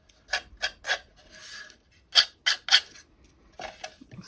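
Emery board rubbing along the edge of a small painted wooden box, a few short rasping strokes in uneven bursts, close and fairly quiet, with brief gaps between them.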